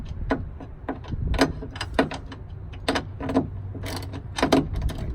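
A 10mm wrench tightening bolts on an MRT hood strut being fitted to a Savage, giving a series of sharp, close metallic ratchet clicks and clinks in irregular bursts with no talking.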